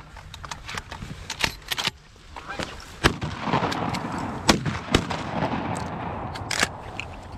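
Shotguns fire during an outdoor goose hunt on a small pond. Several sharp blasts are spread irregularly across the clip, with rustling and movement between them.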